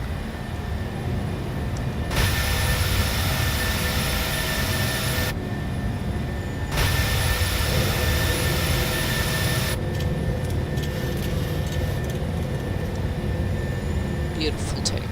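Steady roar of an airliner's jet engines during takeoff in a flight simulator game, loud and continuous throughout, with broadband noise surging in blocks and a faint voice talking underneath.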